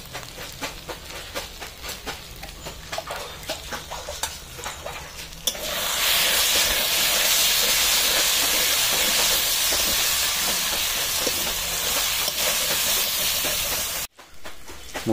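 Spices fry in a pan for yogurt chicken, starting with light crackling, then a loud, steady hiss and sizzle for several seconds before a brief cut-off near the end.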